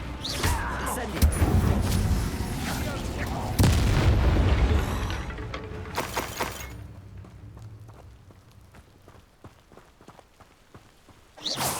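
Incendio fire spell cast in the Hogwarts Legacy video game, a loud booming burst of magical flame amid busy battle effects, fading into quieter crackles and scattered impacts.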